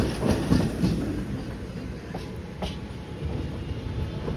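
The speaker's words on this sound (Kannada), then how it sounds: "ನಮ್ಮ ಟ್ರೈನ್ ಯಾಕೆ ಈಗ ಹಿಂಗೆ ಸ್ಲೋ ಹೋಗ್ತಾ ಇದೆ" The Chamarajanagar–Mysuru–Tirupati Express rolls slowly through traffic, heard from on board as a low, steady rumble with a few faint clicks of the wheels, and no one speaks.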